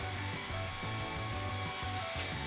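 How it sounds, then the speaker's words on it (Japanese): A polisher buffs the painted interior panel of a Suzuki Jimny JA22 during restoration, giving a steady, close, high-pitched whir over a pulsing low rubbing rhythm. "乾いたらピカピカになるようにポリッシャーで磨いていきます。"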